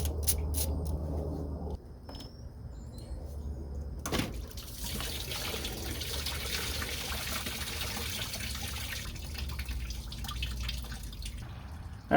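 Coolant drips and trickles from the engine block of a 1994-96 Cadillac Fleetwood into a drain pan during a water pump job, a steady close patter of liquid with a louder splash near the start.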